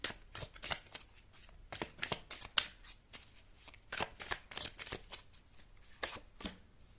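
Tarot cards are shuffled by hand in quick riffling bursts, a series of crisp papery flutters and taps with short pauses between them, close and fairly quiet with no talking.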